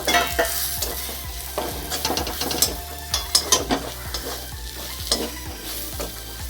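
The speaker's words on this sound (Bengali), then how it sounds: "এবার আমি মশলাটাকে ভালো করে কষিয়ে নেব" A spatula stirs spice masala frying in a pan, with clattering scrapes over a soft continuous sizzle, heard up close with no talk.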